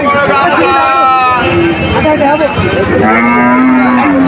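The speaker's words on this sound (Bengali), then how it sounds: "আরো অনেক কটা গরু দেখা যাচ্ছে" Cows mooing loudly and close by at a busy cattle market, several long drawn-out lows overlapping amid a hubbub of crowd chatter and people talking nearby.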